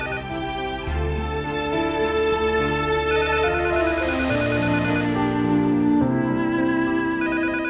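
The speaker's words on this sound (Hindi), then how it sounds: "कब से फोन बज रहा है?" A telephone rings continuously at moderate loudness, its tones layered with a dramatic music score throughout.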